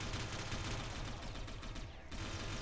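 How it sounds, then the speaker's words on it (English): Dense, continuous gunfire from a squad's weapons in the video game Satellite Reign, rapid overlapping shots forming a loud, sustained barrage with a brief dip near the end and no talking. "Everybody pull out your guns"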